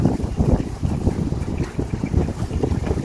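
Strong wind buffets the microphone in a steady low roar on a fishing boat at sea in bad weather, with water sloshing and the boat's motion underneath throughout.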